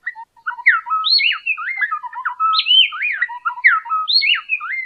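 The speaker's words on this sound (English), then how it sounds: "complex duets sung by pairs of songbirds like these black-bellied wrens" A pair of black-bellied wrens sing a complex duet, loud and close, with rapid interleaved whistled phrases repeating in quick alternation against a silent background.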